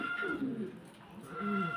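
Pigeons at a pigeon farm give two soft, low cooing calls close by, separated by a brief pause.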